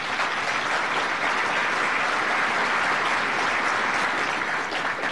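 Canadians in a large audience applaud for the banks during a political economic speech, a thick unbroken wash of many hands clapping at a steady level for several seconds with no speech over it.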